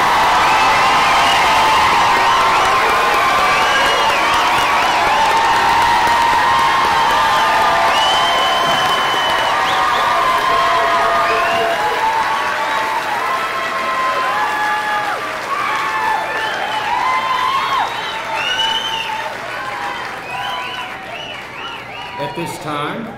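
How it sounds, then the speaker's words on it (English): Graduating high school seniors at a 2023 commencement ceremony are greeted by loud, sustained crowd applause mixed with cheering, whoops and shouts that fill the whole stretch and fade slightly near the end. "Give a round of applause for our graduates."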